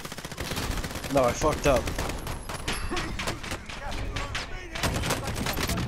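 Pistol fire from Call of Duty: Modern Warfare, a run of sharp shots and bursts in a busy firefight, with someone talking over the gunfire.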